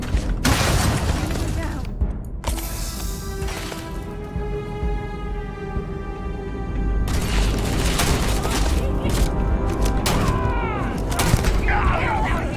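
Starfield combat erupts in bursts of gunfire, loud cracking shots and booms coming in clusters, with stretches of ringing electronic tones between volleys and a voice talking over the action.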